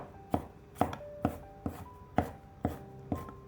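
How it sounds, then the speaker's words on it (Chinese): A knife chops peeled garlic cloves into fine mince on a board: about seven crisp, evenly spaced strikes close by, with no one talking. "准备几瓣去皮的大蒜，先给它切成片， 再改刀切成蒜末。"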